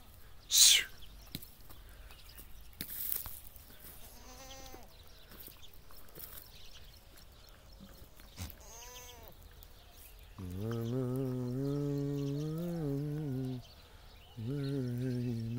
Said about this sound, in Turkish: benim Şam keçilerim